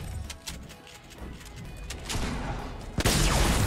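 Gunfire in the Fortnite Battle Royale video game, a dense, loud, continuous rattle of shots and bursts building up and getting stronger near the end, with no talking over it.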